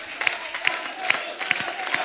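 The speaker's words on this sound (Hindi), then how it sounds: "ताली बजाते रहो" A studio audience at a TV comedy talk show claps for about two seconds. The applause is steady and fairly soft, with a few sharper claps standing out at regular points.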